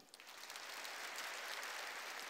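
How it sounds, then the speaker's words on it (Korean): A church congregation applauds during a Sunday worship service, a dense, steady wash of clapping that holds at an even level throughout with no voices over it. "이 여인이 박수 좀 쳐줘요."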